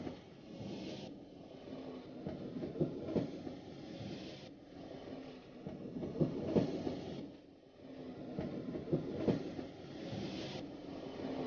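A train passing a railway crossing, a continuous low rumble with rhythmic swells as wagons roll by, moderately distant and steady.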